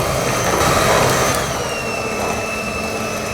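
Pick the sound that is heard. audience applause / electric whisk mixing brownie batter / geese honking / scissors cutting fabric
electric whisk mixing brownie batter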